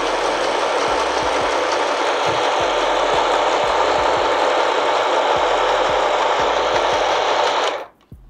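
A robotic sewing machine, run by hand rather than the pedal, sews gathers with a loud steady whirring drone and rapid rhythmic needle ticks, then stops abruptly near the end.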